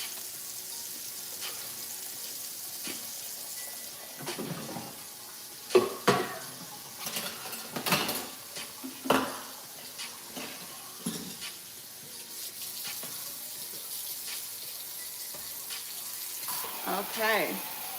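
Dishes and utensils being washed in a kitchen sink under running water, with intermittent clinks and knocks of items over a steady tap flow, close and moderately loud, with a voice talking briefly.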